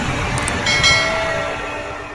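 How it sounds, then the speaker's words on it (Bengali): An electric train passing outdoors, heard as a steady broadband rumble with faint clicking rail noise, swelling slightly midway and then easing off. "রানিং ট্রেন যাচ্ছে, কারেন্টের ট্রেন।"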